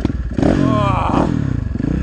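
A KTM 450 Rally Dakar motorcycle engine starts and revs up close, a loud, rough, throbbing roar that rises and settles into a fast pulsing idle.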